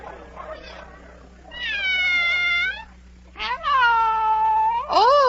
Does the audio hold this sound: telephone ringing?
no